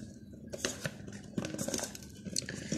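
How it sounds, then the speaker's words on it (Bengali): Eggplant pieces are tossed with spices and cornflour in a bowl, giving soft, close clinks and rustling scrapes that come in quick irregular bursts at low volume. "আমি বেগুনগুলো ভালোভাবে মাখাচ্ছি মশলার সাথে এবং কর্নফ্লাওয়ার সাথে।"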